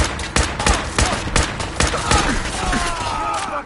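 Gunfire in the video game Fallout 4, a rapid series of loud, sharp shots in irregular bursts, with overlapping whines and echoes trailing after them.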